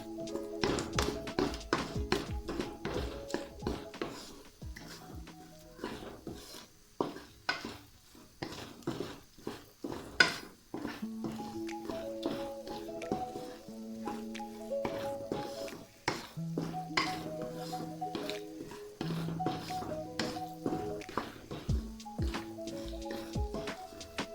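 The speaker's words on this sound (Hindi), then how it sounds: "हमने अच्छे से चम्मच के साथ मिक्स करते जाना है ताकि अंडे का कोई बड़ा पीस ना रह जाए अंदर।" Metal spoon taps and scrapes rhythmically against a pot while eggs are mixed for anda ghotala in a home kitchen, steady close clinks and knocks running throughout with faint background hum.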